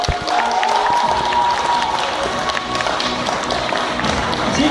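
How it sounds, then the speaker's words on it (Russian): Audience applause fills a hall at a school-league KVN comedy contest as teams come on stage: dense, steady clapping with crowd noise lasting throughout, with a faint tone and voice underneath. "под ваши аплодисменты я приглашаю команды школьной лиги на сцену"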